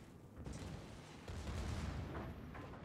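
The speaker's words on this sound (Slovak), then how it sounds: "Čo to bolo za výstrel?" A naval gun fires in a warship video game, a low booming blast with a rolling rumble, faint and muffled, followed by a second heavier swell of noise.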